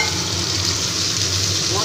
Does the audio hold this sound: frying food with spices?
yes